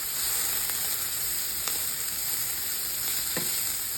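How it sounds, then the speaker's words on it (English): Mushroom, cheese and corn sandwich filling sizzles steadily in a pan, a constant frying hiss with a few soft stirring scrapes, close and alone. "Now just saute for some more time."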